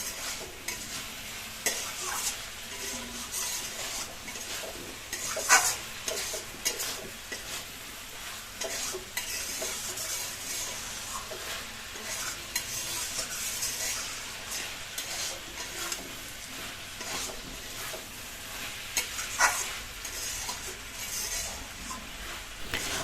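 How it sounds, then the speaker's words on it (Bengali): White brinjal (eggplant) being stirred in a pan with oil, spices, turmeric and salt, a steady close sizzle broken by occasional scrapes and clinks of the spatula, continuous throughout with no talking. "আমরা এখন এখানটা বেগুনটা খুব সুন্দর করে নাড়িয়ে চাড়িয়ে নিচ্ছি"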